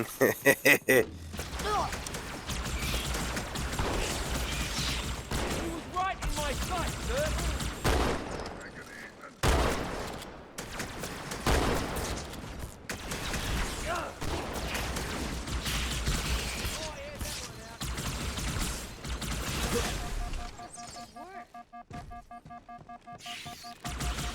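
Bursts of shotgun gunfire against Bugger enemies in the Halo 2 video game, repeated blasts over a busy mix of game effects, explosions and crashes throughout.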